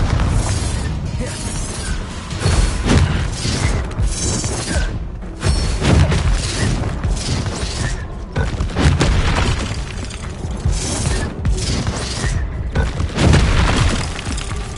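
Bombarda explosion spells detonate in Hogwarts Legacy combat, delivering repeated loud booms with shattering, thudding debris and bursts across a dense, busy battle mix, with voices faintly present.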